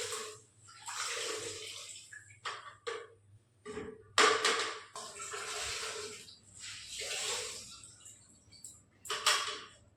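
Wet swishing strokes of a water-soaked mop pushed across a household floor, bursts of hissing and splashing coming in uneven runs with brief pauses between, close and fairly loud.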